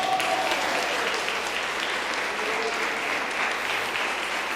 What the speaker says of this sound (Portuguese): toma uma salva de palmas para Jesus